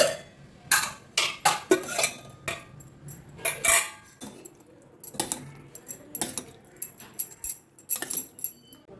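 A spoon stirs spinach dal into tempering, scraping around a metal pot in a series of irregular clanks and clinks, with quiet gaps between strokes.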